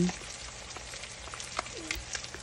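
Chopped tomato, ginger and garlic frying in a karahi, giving a steady close sizzle with scattered pops and crackles and no talking.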